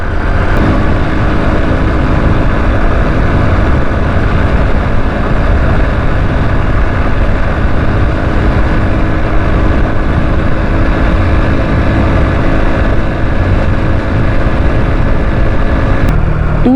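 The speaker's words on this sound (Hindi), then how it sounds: "ये देखिए, सारे मोटरसाइकिल वाले जा रहे हैं, आ रहे जा रहे हैं" Motorcycles and other traffic pass along Malir Expressway, a continuous loud engine and road rumble with a steady drone and no gaps, heard from a moving vehicle.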